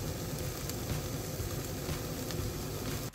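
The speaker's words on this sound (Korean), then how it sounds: "자작자작하게 볶아주세요." Sea snail doenjang sauce stir-fried in a pan with sugar and chili powder, giving a steady, close sizzling bubble that continues evenly and breaks off abruptly at the end.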